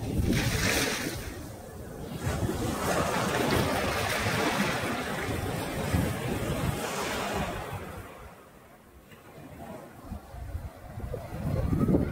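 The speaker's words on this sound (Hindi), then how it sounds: "समुद्र" Sea waves washing onto a beach shore, with a steady roar of surf and wind noise that swells and eases over time. No speech is heard.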